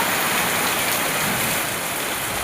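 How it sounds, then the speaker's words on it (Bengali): Heavy rain falls steadily in a dense, even hiss that stays loud and unbroken from start to finish, with no voices heard. "এখন প্রচুর বৃষ্টি হচ্ছে"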